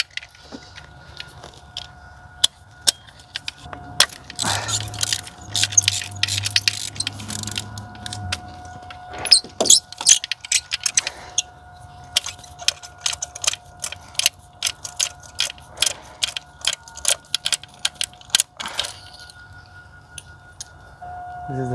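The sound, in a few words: removing spark plugs with magnetic socket, BMW F25 N20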